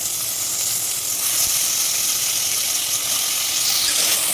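Washed mutton hitting a hot pan of fried ginger-garlic paste for mutton pulusu, giving a loud, steady hiss and sizzle that holds evenly without pause.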